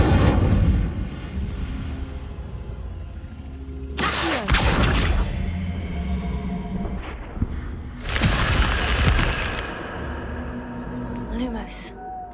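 Fire spells cast in Hogwarts Legacy erupt in two loud whooshing bursts around four and eight seconds, each followed by a crackling roar that fades, over a steady background game score.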